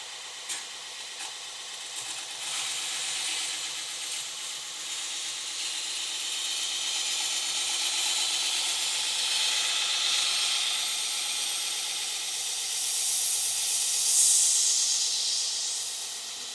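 A belt grinder sharpens a possible WW2 18-inch machete with a continuous close hiss and grind that swells and fades as the blade passes, with no talking.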